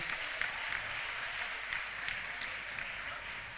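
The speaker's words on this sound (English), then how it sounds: "Another round of applause, ladies and gentlemen." Steady applause from a crowd at a netball event, a dense wash of many hands clapping at moderate volume, heard from a short distance.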